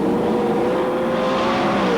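Sprint cars racing in the Winfield Grand Final at Newcastle Motordrome, a steady loud engine roar with high whining revs holding throughout, no voices over it.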